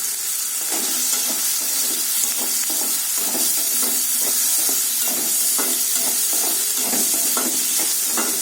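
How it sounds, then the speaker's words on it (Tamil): Onions sauté in a pan for egg masala with a steady loud sizzle and hiss, while a spoon stirs them in regular, repeated scraping strokes. "வெங்காயத்தை நல்லா வதக்கிக்கோங்க."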